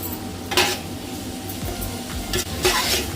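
Spices fry in hot oil in a pan, a low crackling sizzle broken by a few sharp metallic scrapes and clinks of a spoon stirring against the pan, close by.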